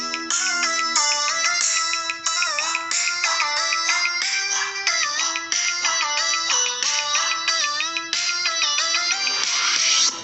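A ringtone melody plays from a Realme X3 phone speaker, a bright repeating tune with steady electronic notes, close and loud for about ten seconds with no talking.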